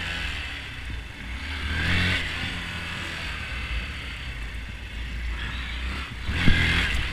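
A Honda Grom motorcycle engine revs during wheelie attempts, a steady mid-distance drone that swells in two louder revving surges with wind noise, and no one speaks.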